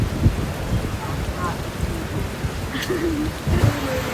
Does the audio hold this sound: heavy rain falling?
yes